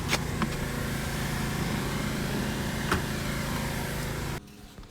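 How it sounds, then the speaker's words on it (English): A 2005 Jeep Grand Cherokee engine runs at a steady idle close by, a continuous low rumble with a few faint clicks over it, then cutting off abruptly near the end. "The keys are in it, the car's running"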